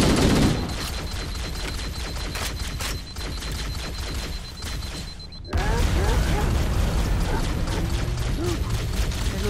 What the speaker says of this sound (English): Quit shooting about